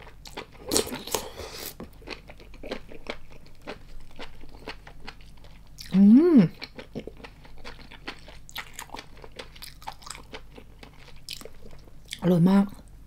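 Crunchy enoki mushrooms coated in spicy mala seasoning are bitten and chewed close up, producing a scatter of crisp little crunches throughout, with short bursts of talking in between.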